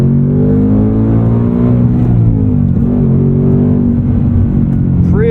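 A 2024 Ford Mustang Dark Horse with a Tremec six-speed manual revs hard toward its 7,500 RPM redline. The engine note is loud, close and steadily rising across the clip, then breaks off abruptly at the fuel cut near the end.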